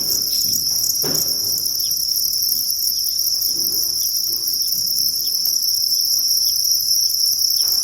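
Crickets on a Thai cricket farm, kept in an egg-laying tray after being separated from the breeding pit, keep up a loud, steady, high chirping drone throughout, with faint rustling and small bumps underneath.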